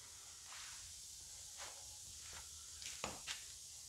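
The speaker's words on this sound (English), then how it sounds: "we're gonna spray it down with some brake clean." Aerosol brake cleaner sprayed onto an old trailer wheel bearing in short hissing bursts, several quick close sprays, the last two coming in rapid succession, over a quiet background.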